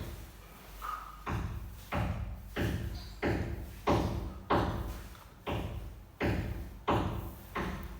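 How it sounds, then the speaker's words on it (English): Construction work on an unfinished upper floor, heard from the room below: a steady series of about ten heavy thumps and bangs roughly every 0.7 seconds, loud, echoing and alone with no talking. "Sorry for the noise. They're working upstairs."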